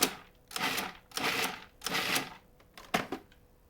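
A food processor pulsing walnuts into a crumbly taco-meat filling, five short choppy whirring bursts with brief gaps between them, close but fairly quiet, with no talk.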